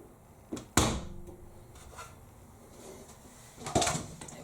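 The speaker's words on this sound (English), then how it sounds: "So we can open the door now" Door of an AEG ÖKO-Lavamat 88840 washing machine being opened after a cycle: a sharp latch click followed by a loud thud, then a second clunk near the end, close by against a quiet room.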